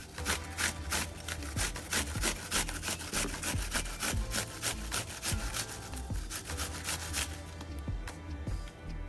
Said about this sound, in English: we're gonna go ahead and grate the onion